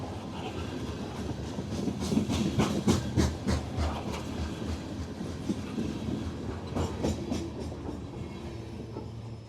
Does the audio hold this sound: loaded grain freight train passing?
yes